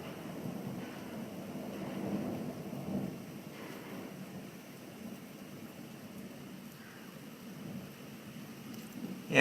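Rain falls steadily during a thunderstorm at a home in Hoover, Alabama, with low rumbles of thunder swelling and fading in the background.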